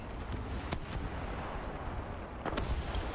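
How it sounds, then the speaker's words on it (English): Artillery strike in the tank combat game War Thunder, fired from a Sherman M4A3 105: faint, distant booming impacts scattered across a low rumbling engine background, a few sharp blasts standing out. "I have artillery, gonna drop it on the anti-aircraft vehicle down there"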